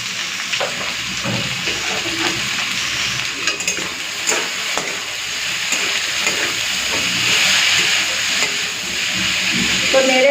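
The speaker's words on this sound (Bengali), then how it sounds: "তো নেড়ে চেড়ে সব মিশিয়ে নিয়েছি" Kakrol with salt and turmeric is stirred and fried in a pan, giving a continuous sizzle broken by scattered scraping and tapping strokes of a spatula, with the hiss swelling louder toward the end.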